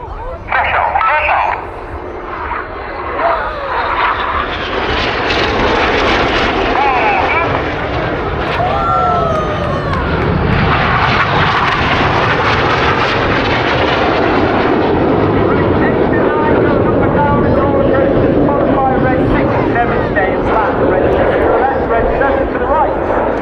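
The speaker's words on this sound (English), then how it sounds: "Each pair will now dive down to only 100 feet above the airfield." Red Arrows jets dive in pairs to about 100 feet over an airfield at an air display. A loud, sustained roar swells and sweeps past, with a voice faintly audible beneath it.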